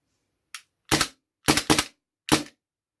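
A Maruzen Walther P99 airsoft pistol firing five sharp, snappy shots at uneven intervals, close and loud, with silence between them.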